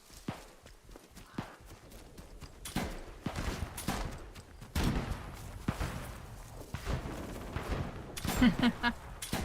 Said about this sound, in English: There's a lot of shooting.